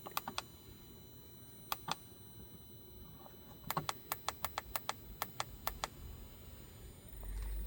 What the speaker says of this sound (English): when it's working, you're gonna hear the fuel pump on the bottom like clicking